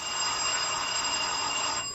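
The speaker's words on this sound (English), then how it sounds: "who could be ringing the bell at this hour?" A bell rings continuously and brightly in an old-time radio mystery drama, a steady electric trill that holds for about two seconds before cutting off, with no talk over it.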